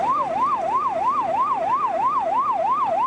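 A loud ambulance siren wails at an emergency scene in Cluj after a multi-victim crash, rising and falling steadily in a regular cycle roughly three times a second, close and continuous with no voices.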